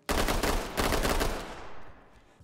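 Rapid burst of M4 rifle fire during a raid in the tactical shooter Ready Or Not, loud and close, a dense stream of shots lasting about a second and a half before trailing off into echo.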